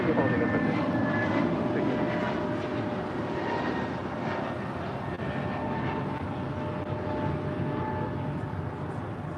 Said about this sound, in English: That is Delta Airlines flight 800 coming in from Fort Lauderdale, Florida, in this A321neo.